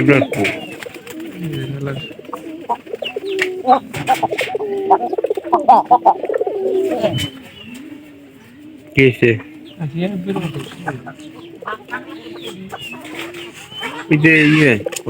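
Pigeons in a loft coo and murmur in overlapping, bubbling calls, close by and lively, with some scattered fluttering and brief louder bursts.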